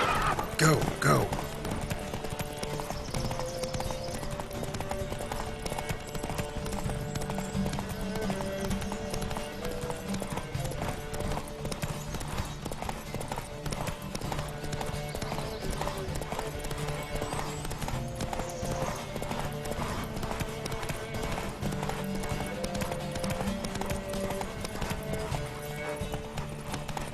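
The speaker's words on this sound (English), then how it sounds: "Don't spare the horse! Giddy up." Horses gallop in a race in The Witcher 3, a steady rapid clatter of hooves running throughout with game music and occasional spoken lines layered over it.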